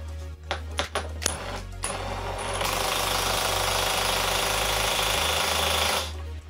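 A Villager VLP 5720 cordless impact wrench hammers away while tightening to 150 Nm, opening with a few short bursts and then running as one loud, steady rattling impact for several seconds before it cuts off.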